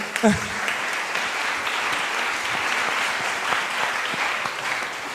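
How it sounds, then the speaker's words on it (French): Steady applause from an indoor audience at a talk on eating habits, dense continuous clapping of moderate loudness throughout, with a brief voice near the start. "Vous applaudissez"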